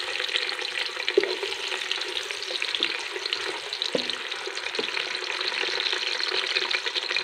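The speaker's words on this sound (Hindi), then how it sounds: "अब हम इसमें प्याज डाल देंगे।" Chopped onions sizzle steadily in hot oil for chana pulao, a dense continuous frying hiss with a few soft stirring clinks, close and even throughout.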